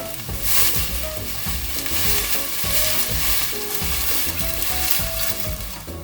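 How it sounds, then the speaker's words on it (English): Stock poured into a pan of boiling ragu for lasagne gives a steady, close sizzle and bubbling that lasts the whole stretch, with rhythmic background music underneath and no talking. "As it's just reaching boiling, I'm going to add in a little bit of stock."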